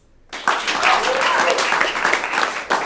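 Audience at a Free Fringe comedy show bursts into sudden, loud applause and clapping, a dense steady burst of hands lasting a couple of seconds before cutting off.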